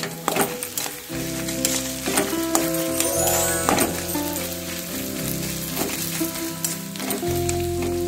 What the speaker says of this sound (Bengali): এই মশলার সঙ্গে এই মাছটা একটু ভেজে ভেজে নেব।